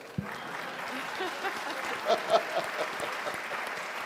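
Applause at a government press conference of a binational commission, a soft, even spread of clapping with a few louder hand claps standing out, heard from a distance in a large room.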